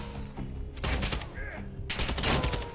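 Dense, loud gunfire from the Call of Duty Modern Warfare 2 campaign, rapid overlapping shots and explosive bursts packed into a short intense stretch.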